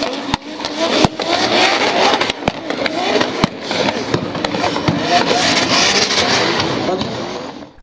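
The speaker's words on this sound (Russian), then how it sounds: "Один из пилотов инициирует занос." A drift car slides through a paired drift heat, its engine roaring loud and steady for several seconds with sharp cracks and pops breaking through the sustained skid noise.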